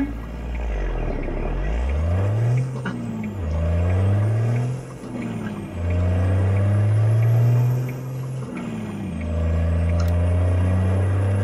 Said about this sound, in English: This Jake is just too strong in this damn truck.